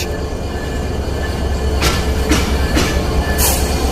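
The Nilsagar Express, hauled by locomotive 6620 between Parbatipur and Chilahati, rumbles past close by with a steady roar and a few sharp rhythmic wheel clacks, and no one speaks.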